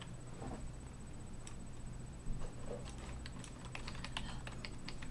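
Quick, light keystrokes on a computer keyboard patter close by and quietly over a low background hum, growing busier toward the end, with no voices.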